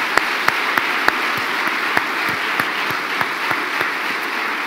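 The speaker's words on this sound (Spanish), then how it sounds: "¿Cuántos le dan un aplauso fuerte al Señor?" A church congregation claps together in a steady, fairly even rhythm, the applause filling the room loudly and continuously, with sharper individual claps standing out throughout.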